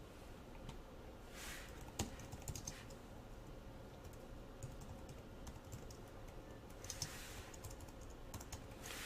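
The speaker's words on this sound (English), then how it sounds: "I can just hit the tab on my keyboard" Fingers type softly on a computer keyboard in scattered light taps over a steady background hiss. The keystrokes are faint and close, with no talking.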